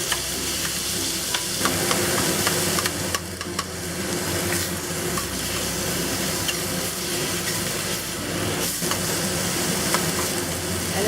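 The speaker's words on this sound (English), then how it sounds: "And we'll cook the tofu crumble until it browns up a bit." Tofu crumble sizzling in a hot wok while being stir fried, a steady loud frying hiss with occasional scraping stirs throughout.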